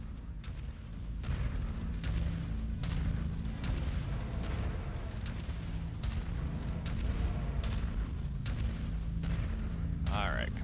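Rapid gunfire and rumbling explosions from a mercenary shooter video game as turrets are destroyed, a steady loud barrage with dense bursts throughout.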